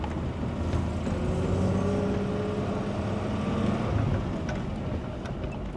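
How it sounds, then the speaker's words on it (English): A pre-war 1938 Wolseley car drives along, its engine droning steadily with a low rumble and rising and falling gently as gears are changed, heard from inside the cabin with no talking. "That was a better gear change, wasn't it?"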